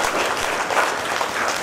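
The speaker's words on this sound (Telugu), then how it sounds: "మన అవ్వతాతలకు మీ యొక్క చప్పట్లతో అభినందనలు తెలియజేద్దాం" An audience claps together for grandparents at a church anniversary celebration, a dense, steady burst of applause from a crowd filling the whole moment.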